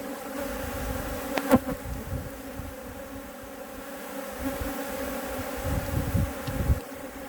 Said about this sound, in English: And as you can see, there's a well-established swarm.